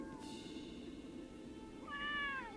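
A Loth cat from Star Wars Rebels meows at low volume, first a brief cry and then a longer rising-and-falling meow near the end, over a quiet background hum.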